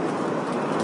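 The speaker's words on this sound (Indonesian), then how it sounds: "dan hujan pun semakin deras." Steady heavy rain pours at the Kaaba in Mecca during the hot season, a dense, continuous hiss of falling water with no break across the short moment.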